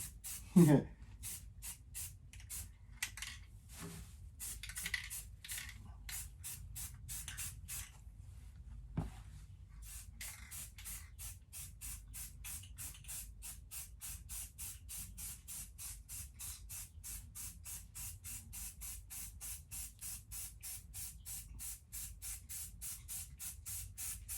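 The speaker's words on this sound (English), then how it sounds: "first you just do some light misting coats. So we're just trying to let the paint know we're here" Spray paint going on in light misting coats, a steady stream of short, rhythmic hissing bursts close by, with a few louder knocks near the start.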